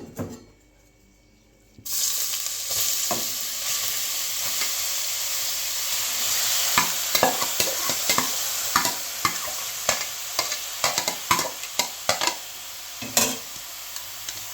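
Grated bottle gourd tipped into a pot for halwa, a hush followed by continuous hot sizzling and repeated sharp scraping strokes of a spoon stirring, close and fairly loud.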